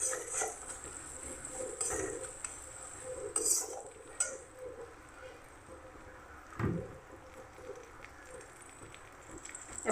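A spoon stirs ground cumin and coriander in a cooking pan, making scraping, clinking and rustling sounds throughout, with brief metallic taps and a faint sizzle behind them.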